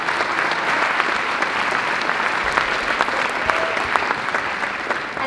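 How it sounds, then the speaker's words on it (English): An audience at a school symphonic choir concert applauds, a steady, even wash of many hands clapping at moderate distance that carries on without pause for several seconds. "Round of applause for them, please"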